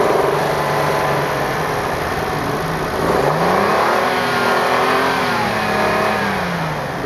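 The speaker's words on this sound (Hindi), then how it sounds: "इसको रेव करें मैं ताकि साउंड सुना सकूँ" A 2015 Suzuki Stingray's 660 cc engine revving from idle, pitch rising and falling in a couple of smooth blips, steady and fairly close with no talk.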